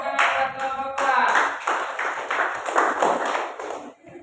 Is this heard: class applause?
yes